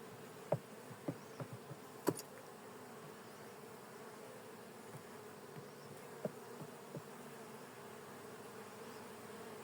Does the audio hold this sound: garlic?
no